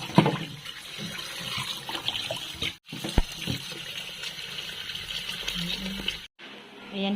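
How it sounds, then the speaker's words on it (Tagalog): Running tap water splashes steadily over kamyas (bilimbi fruit) being washed at a sink, a continuous close hiss broken by a brief pause, with people talking over it. "Ayan, hugasan muna natin yung kamyas."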